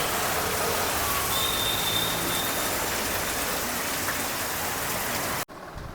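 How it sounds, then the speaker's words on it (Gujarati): Heavy rain pouring down in Surat, a dense, loud, unbroken hiss of drops hitting surfaces nearby, steady throughout before a sudden brief drop at the end, with no voices. "અત્યારે વરસાદ પડે છે ફૂલ સુરતમાં"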